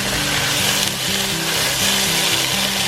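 Onions tipped into a hot pan for Salisbury steak sizzle with a steady, loud, broadband hiss, while a low hum runs underneath throughout.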